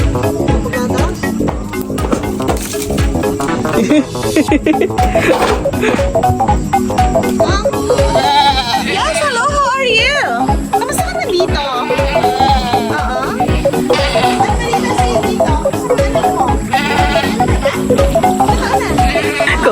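Goats bleat repeatedly amid a busy, noisy farmyard on a pig farm, with people chatting and laughing close by throughout.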